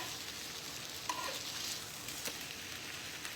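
Keto smash burger tacos sizzle in a pan just after being flipped: a steady, close frying hiss with a few small pops and crackles, and no talking.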